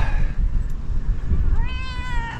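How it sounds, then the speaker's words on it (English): A cat meows outdoors on a sailing trip near French Pass, New Zealand, a drawn-out, wavering call rising over steady wind and boat rumble. "Oh! It's a cat."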